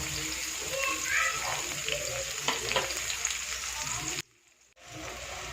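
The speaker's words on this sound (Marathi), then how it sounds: "तेल तापलेलं आहे आपलं. आता कांदा याच्यामध्ये भाजून घेऊया." Onion fries in hot oil with a steady, loud sizzle, a few stirring scrapes and a faint voice in the background, then a brief drop to near silence before the sizzle resumes.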